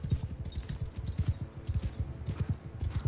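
Many horses gallop together in Mount & Blade II Bannerlord, a dense, rapid clatter of hooves drumming steadily and fairly close, without any talking.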